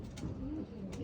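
A racing pigeon in a loft coos softly in a low, rolling tone. The short, quiet call sits against faint background noise.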